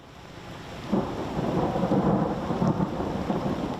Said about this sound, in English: Thunder, lightning, and sometimes this morning, blinding, drenching, cold rain